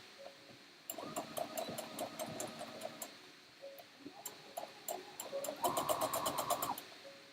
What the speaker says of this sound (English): So now I'm just top stitching this